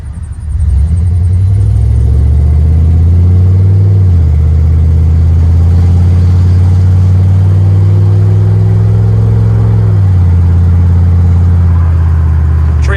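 A modified 1996 GMC K1500 Sierra 4x4 pickup with a high-mileage 4L60 automatic, its engine droning loud and close as it revs up, with two clear shifts where the rumble drops and climbs again.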